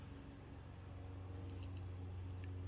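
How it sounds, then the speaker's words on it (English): A Cressi Leonardo dive watch, its screen dead after a battery change, gives a short series of faint high electronic beeps over a steady low hum of room noise. "It just makes this beep"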